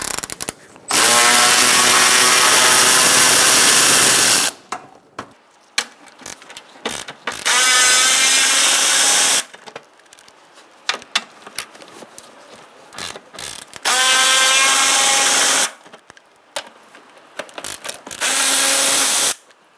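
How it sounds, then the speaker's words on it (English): A 10mm socket ratchet undoes the radiator bolts on a 2012-2017 Hyundai Accent. It gives four long bursts of rapid, loud clicking, separated by quieter pauses with small knocks and handling sounds. "now we're going to use a 10mm socket and we're going to undo our bolts"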